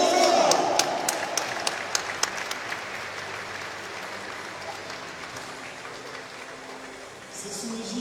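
Audience applause for the finalists at a women's pétanque tournament, starting with distinct loud claps that fade into a softer, thinning patter, with voices murmuring underneath.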